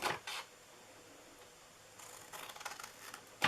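A few quiet, crisp snips of scissors cutting paper, spaced apart with stillness between them, close and faint.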